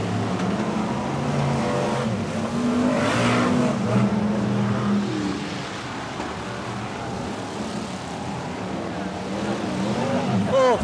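BriSCA Formula 1 stock cars race around the Kings Lynn circuit in 1994, their engines a loud, continuous roar that rises and falls as they pass, with a commentator talking over the noise.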